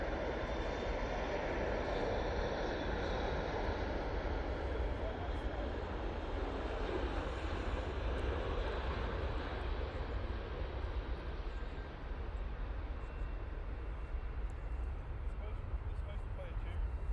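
An Etihad airliner taxis at Manchester Airport, its jet engines giving a steady broad roar that holds for the whole stretch, with indistinct voices faintly beneath it.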